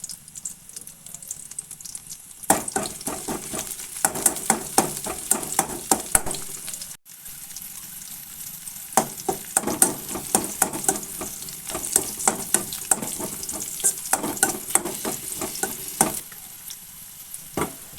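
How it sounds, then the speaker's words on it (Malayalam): Garlic, shallots and green chillies frying in oil for a tempering, a continuous crackling sizzle broken by bursts of spattering pops and stirring, close and fairly loud after a brief quiet start. "വെളുത്തുള്ളിയും ചെറിയുള്ളിയും പച്ചമുളകൊക്കെ ഇട്ട് മൂപ്പിച്ചെടുത്ത്"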